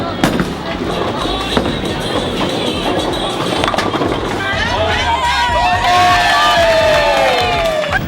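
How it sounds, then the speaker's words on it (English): Crowd of bowlers at a bowling alley in a unified school bowling program, cheering and shouting together after throws, with loud whistling-like voices rising toward the end amid steady chatter and alley clatter. "It's nothing but cheering when somebody throws the ball down or they get a strike, the whole team jumps up for joy"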